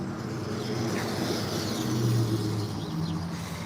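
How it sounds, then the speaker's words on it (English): Low, steady hum of a car engine running at a distance, with faint traffic noise and no talk. "There's the engine sound."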